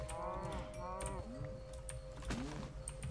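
Cows in a block-building video game moo repeatedly, several drawn-out calls overlapping in quick succession, with game clicks and faint talk in the background.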